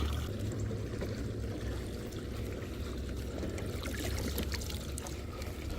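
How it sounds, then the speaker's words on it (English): Water pours steadily out of the front of a robot pool cleaner held at the side of a pool, a continuous close rushing and splashing that never lets up. "The water rushes out pretty quick out of the front of this one"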